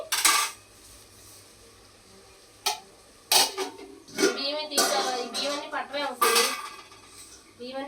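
Prawns stirred gently in a cooking pot for gongura prawn biryani, heard as scattered metal spoon scrapes and clinks against the pot between quiet pauses, with some faint background noise.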